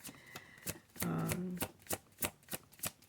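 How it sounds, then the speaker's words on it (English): Tarot cards shuffled at home, close and clear, with a riffle burst and then a run of sharp, regular card slaps, and no voice. "And I come home and I pull cards."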